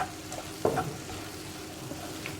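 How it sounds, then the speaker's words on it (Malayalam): Carrot and bitter gourd thoran with grated coconut is stirred in a pan, soft scraping strokes and a quiet sizzle, with one sharper clatter early on. "തേങ്ങ ചേർത്തിട്ട് നന്നായിട്ടൊന്ന് ഇളക്കി മിക്സ് ചെയ്യാം."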